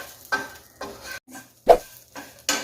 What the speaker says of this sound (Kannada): ನಾನು ಇದನ್ನು ಹುರ್ಕೊಳ್ತಾ ಇದ್ದೀನಿ. ಕರಿಬೇವು ಹಾಕ್ತಾ ಇದ್ದೀನಿ.